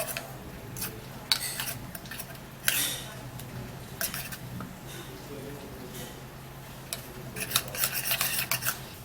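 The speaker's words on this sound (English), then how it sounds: "I'm going to be putting about 3 tablespoons of this oatmeal into this tomato paste, and then we're going to give it a stir" A spoon scrapes and clinks against a bowl as oatmeal is stirred into tomato paste, a series of close, uneven scraping strokes and taps that grow busier near the end.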